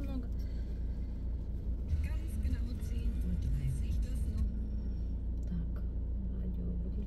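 Steady low road rumble and engine drone inside a moving car on the way to a shop, continuous and even throughout, with a voice talking faintly over it.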